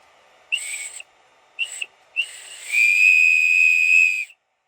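3D-printed sports whistle with a tooth bar blown indoors: three short shrill blasts followed by one long, steady piercing tone, close and loud.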